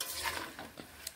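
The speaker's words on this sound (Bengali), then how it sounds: "পনির দিয়ে এইভাবে নেড়ে নিচ্ছি।" Paneer being stirred in a pan, soft scraping and light clinks of a spoon against the metal, quiet and close with a faint sizzle underneath.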